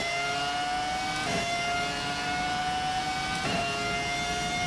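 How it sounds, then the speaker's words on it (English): BMW V10 Formula 1 engine in the F1 2018 racing game, a loud steady high-pitched whine held near constant, with two brief dips as gears shift, running alone without talk. "the sounds here of this BMW V10 engine, not too bad"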